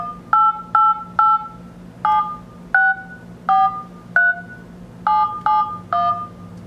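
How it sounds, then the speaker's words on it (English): Dial tones from the Nexus 7 tablet's phone app as it places an outgoing call: a series of about eleven short, evenly paced two-tone beeps, clear and loud over a steady low hum. "what I'm going to do is go ahead and send out a call and just take a listen"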